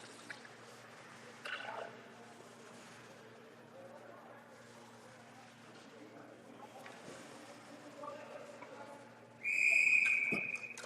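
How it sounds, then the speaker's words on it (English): A referee's whistle at a U16 ice hockey game between the Orangeville Flyers and Orillia Terriers blows one loud, sustained shrill blast near the end, over steady commentary and arena murmur. "will cover that one for a whistle"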